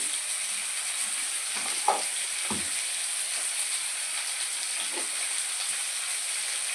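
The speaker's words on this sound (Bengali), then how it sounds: "দিয়ে আমি এটা খুব ভালো করে একটু নেড়ে নেব, ভেজে নেবো আলুটা" Potatoes frying in hot oil with salt and turmeric, a steady soft sizzle with a few brief stirring scrapes from a spatula, close and fairly quiet, no talking.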